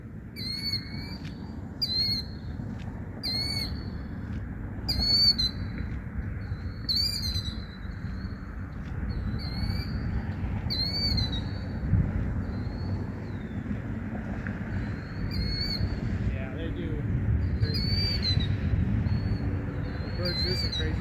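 A bird repeatedly gives sharp, high, insistent calls in rapid bursts, close by, over steady low wind and outdoor rumble.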